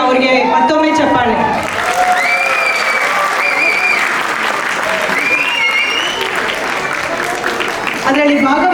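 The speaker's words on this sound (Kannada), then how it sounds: "ಅವರಿಗೆ ಮತ್ತೊಮ್ಮೆ ಚಪ್ಪಾಳೆ." Loud, sustained applause from an audience for children performing a Suggi folk dance with props at a Sankranti celebration, dense clapping with some cheering filling the whole stretch.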